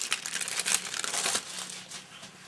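Plastic sticker packaging being opened by hand, close crisp crinkling and rustling in a continuous flurry that eases off toward the end.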